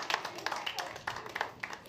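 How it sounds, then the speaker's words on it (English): Scattered audience clapping at a live stand-up comedy show in Nashville, a brief uneven patter of hands from a modest crowd, moderately close and fading in and out. "You can clap for that"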